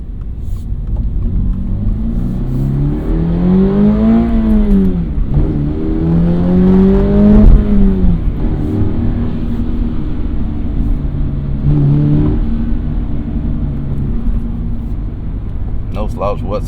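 A Toyota GR86 accelerates with its engine revving, rising and dropping in pitch through gear changes, loud and close from the cabin with someone talking over it.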